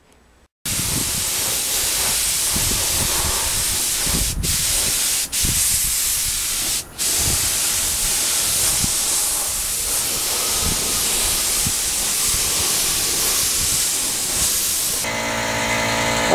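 A spray gun lays yellow paint onto a cafe racer motorcycle part in a continuous loud hiss that runs for the whole stretch, with a few brief sharp breaks, close up and with no speech.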